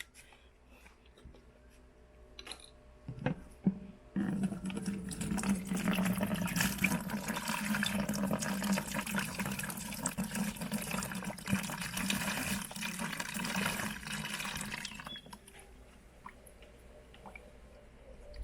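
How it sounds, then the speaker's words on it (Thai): Fruit juice pours steadily into a fermenting bucket for about ten seconds, a continuous splashing gurgle preceded by a few small knocks and followed by quiet drips. "เดี๋ยวเราก็จะเทน้ำผลไม้ใส่เข้าไปเลยนะฮะ"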